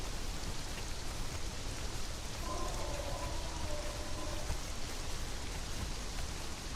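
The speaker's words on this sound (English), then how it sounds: "It still rains a lot up here." Steady, dense rainfall rushes without a break in the video game Age of Heroes, an even wash of drops with no voices over it.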